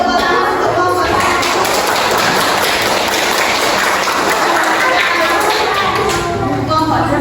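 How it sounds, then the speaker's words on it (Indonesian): A classroom group claps for the first student team after a cooking practice session, with steady, dense applause from many hands that continues for the whole stretch, along with a few scattered taps and thumps. "Yuk, beri tepuk tangan untuk kelompok 1."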